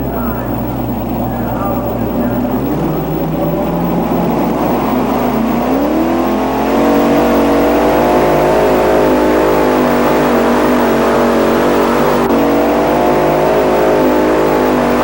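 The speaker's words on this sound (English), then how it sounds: "on the Makin Bacon Special with 5 524 cubic inch V8 Rodeck engines" The Makin Bacon Special pulling tractor, powered by five 524 cubic inch V8 Rodeck engines, roars loudly at a 1986 NTPA tractor pull, revving up in stages to a sustained high-pitched drone, with an announcer talking over it.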